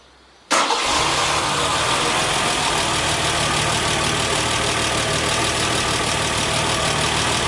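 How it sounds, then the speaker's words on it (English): A 1968 MGC catches abruptly on the starter and settles straight into a steady, close idle, the engine running loud and even for the remaining seconds with no talking. "So I'll go ahead and turn the car over."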